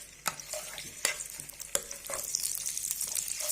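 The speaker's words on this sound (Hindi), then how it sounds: "अब अदरक लहसुन का पेस्ट ऐड कर देंगे" Ginger garlic paste sizzles in hot butter in a pan, a soft steady frying hiss broken by a few sharp clicks of stirring.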